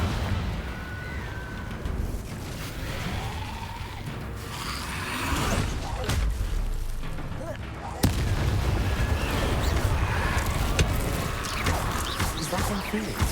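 A fiery Confringo spell in Hogwarts Legacy bursts with a crackling, booming blast, followed by roaring, rumbling fire and debris noise across the scene, with another sharp impact midway and game ambience throughout.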